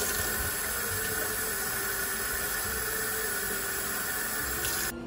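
Cold water poured into a Costco instant soup cup, a steady rushing stream that holds evenly for about five seconds before cutting off abruptly.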